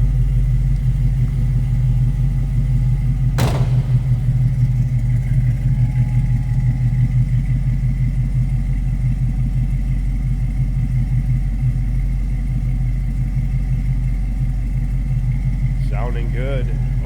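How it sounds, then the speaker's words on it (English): A deep, steady V8 exhaust rumble from a 1978 Chevrolet Camaro Z28 with an LS2 engine runs throughout at a constant loud level, a low throaty drone with a brief sharp burst early on. "Nice deep throaty exhaust note."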